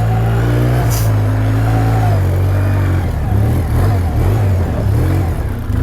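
A 2012 Polaris Sportsman 800 EFI ATV crawls over rough ground in low range with all-wheel drive, its engine loud and close, droning with shifting revs and no talk.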